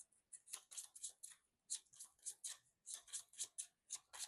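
Marvel Champions card deck shuffled by hand, a rapid run of crisp papery riffles and snaps in short bursts with brief pauses, close and fairly quiet with no talking.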